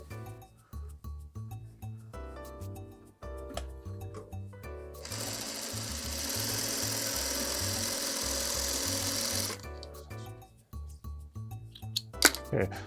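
A domestic sewing machine stitches a quilt block with half square triangles for a pinwheel, starting in short whirring bursts, then running steadily for several seconds before slowing back into brief stops and starts, close and loud.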